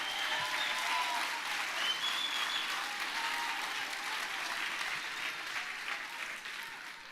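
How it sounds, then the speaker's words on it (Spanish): A church congregation claps in strong, sustained applause that fills the room. The clapping is steady and dense, easing slightly toward the end, with no clear speech over it. "Denle un fuerte aplauso al Señor."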